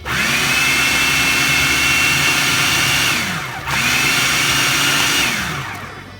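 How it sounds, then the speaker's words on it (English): A blender whirs loudly, blending salsa of green onion, lime juice, salt and garlic with a steady high-pitched roar. It runs for about three seconds, pauses briefly, then roars again. "Get the lid on and start blending."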